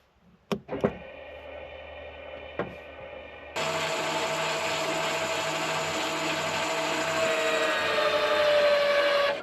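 The auto-leveling jacks on an Outdoors RV 19MKS trailer operate. A few mechanical clunks come first, then a loud electric motor starts and grinds steadily, whining slightly higher as it works.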